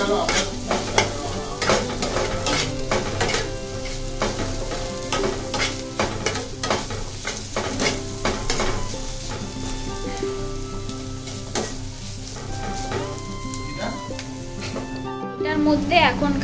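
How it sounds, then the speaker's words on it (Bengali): Food fried in a pan for a home-cooked paneer dish, loud continuous sizzling with repeated scraping stirs of a spatula, close and steady throughout. "এখানে এটা প্রায় অনেকটাই ভাজা হয়ে গেছে। এটাকে একটু নাড়াচাড়া করবো।"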